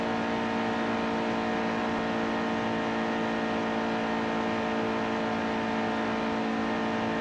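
Race car engine from NASCAR Heat 2 held at a steady high-revving drone through a hot lap, loud and continuous for the whole stretch with no voices over it.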